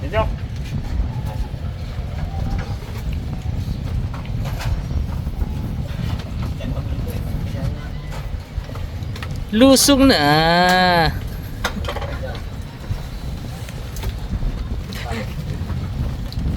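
Steady, roaring northeast monsoon wind buffets the microphone throughout, with a short burst of voices and a brief tonal call midway, near the shore where a boat is kept.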